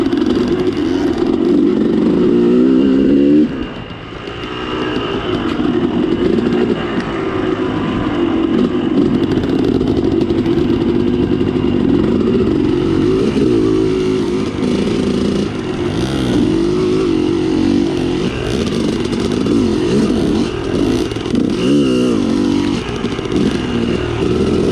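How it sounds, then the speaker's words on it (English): A dirt bike stuck on wet, slippery roots and mud at White Pines revs hard as its rear wheel spins, the engine roaring loud and close, dipping briefly before surging again throughout. "We got hung up and we're spinning like crazy."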